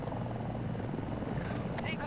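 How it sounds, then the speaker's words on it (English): A helicopter in the video game Battlefield 2042 churns as a steady, loud rotor-and-engine drone that runs through the whole moment, with game noise and some voice chatter mixed over it. "Just gonna spawn on this chopper and drop on E1."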